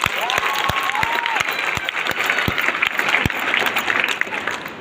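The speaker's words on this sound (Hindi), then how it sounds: "जोरदार अपने इलाके के लिए, शान के लिए ताली बजाओ" Strong, sustained applause rises from a comedy show crowd in Bundi, thick and steady with scattered louder individual claps and faint voices mixed in.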